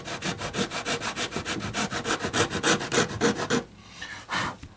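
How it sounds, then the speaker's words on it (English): A coarse nut seating file rasps back and forth across a guitar nut during repair work on a Martin D-28 acoustic guitar, giving steady rhythmic filing strokes up close, then pausing before a final lighter scrape. "That one's the nut seating file. Coarse, it has a coarse and a fine."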